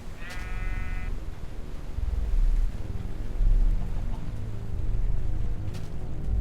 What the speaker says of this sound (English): Out of the way, sheep.